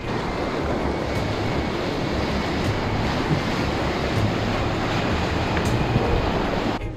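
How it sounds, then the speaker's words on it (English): Rushing river rapids give off a constant, loud broadband roar that stays steady throughout, with faint knocks and thumps mixed in. "Rapids ahead."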